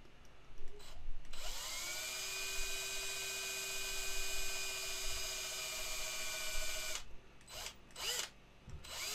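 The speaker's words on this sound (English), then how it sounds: "The drill just immediately caught on to the resin and just created a very clean hole." A small drill boring a hole in a resin model kit spins up after a few handling bumps, whines at a steady high pitch for several seconds close by, then stops, followed by more clicks and handling noises and no talking.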